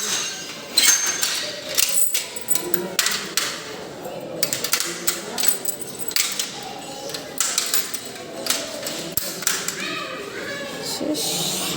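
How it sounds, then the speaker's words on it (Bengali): A padlock on a home door is handled and locked with keys, giving a run of close metallic clinks, taps and thuds scattered irregularly through the clip over faint background household noise. "খুললাম, আবার তালা লাগাতে হবে।"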